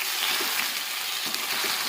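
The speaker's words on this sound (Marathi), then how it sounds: "आता पेस्ट चांगली परतून घ्यायची स्वच्छ एकदम" A ginger, garlic, coconut, coriander and onion masala paste sautéing in a pan, giving a continuous dense sizzle with soft wet bubbling, close and steady throughout.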